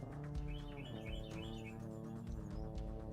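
A talkative pet bird gives quick bursts of bright chirps and tweets, fairly faint, in short repeated phrases over a constant low hum indoors.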